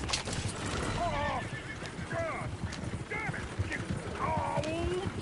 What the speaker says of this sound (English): Get the horses! Damn horses!